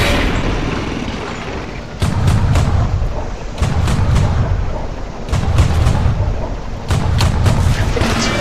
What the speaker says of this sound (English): firing three or four shots per burst